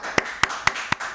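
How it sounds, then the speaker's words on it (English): Applause from an audience at a conference talk, heard here as five evenly spaced sharp claps in just over a second, close and distinct rather than a dense crowd roar. "Thank you for the voluminous applause"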